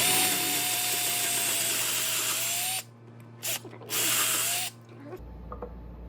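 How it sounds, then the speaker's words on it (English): A power drill bores holes into a wooden knife-throwing target, a loud continuous whine that cuts out, gives a short burst, runs again for about a second, then stops, leaving a low hum; no voices. "So I'm going to drill these holes."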